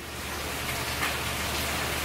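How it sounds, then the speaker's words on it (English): Hail falling steadily outdoors near a van, a dense continuous hiss of small impacts like heavy rain, fairly loud and even throughout with no voices. "Mmm, hail. At least it's water that you can just that you can just brush off yourself."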